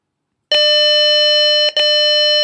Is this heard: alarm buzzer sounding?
yes